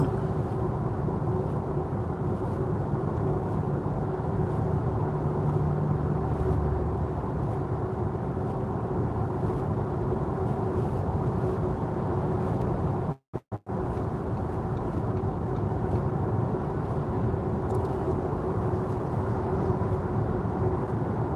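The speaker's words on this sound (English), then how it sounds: "Wind noise. Oh, it's probably some rubber seal that is out of position or not doing its work again." Wind noise inside an Audi A6 e-tron Quattro Sportback on a highway at night, from a loose rubber seal: a steady broadband rushing hiss and road roar, with a brief dropout near the middle.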